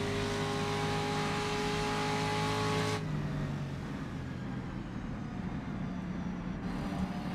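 A racing motorcycle at the Isle of Man TT blasts past on the road course near a spectator footbridge: a loud, high engine whine for about three seconds, then a sudden drop to a rougher, receding roar as it passes.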